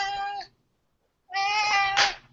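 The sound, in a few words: cat meowing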